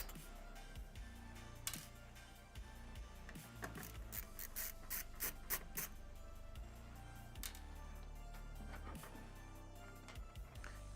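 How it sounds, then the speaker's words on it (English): Faint mechanical clicking and scraping as two mounting bolts are removed from PC case parts, with irregular small ticks and rubbing close by, low in level throughout. "I gotta take out these two bolts"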